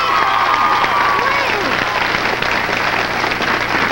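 A television studio audience applauds and cheers for a band on a talk show, a dense, loud, continuous wash of clapping with some shouting and voices mixed in throughout.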